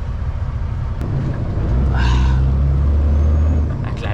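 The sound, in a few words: city bus alongside on Montreal street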